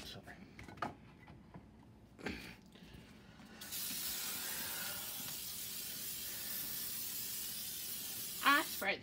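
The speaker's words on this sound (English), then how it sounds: "Okay, let me spray a cookie sheet." Cooking spray hisses onto a cookie sheet for scones in a home kitchen, a steady airy spray lasting several seconds after a few handling knocks and brief speech.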